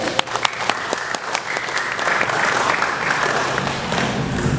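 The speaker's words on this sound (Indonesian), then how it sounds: "Untuk itu saya minta tepuk tangan dulu dari hadirin sekalian." A seated audience at a formal gathering breaks into applause, starting with a few sharp separate claps that quickly swell into steady, dense clapping lasting several seconds.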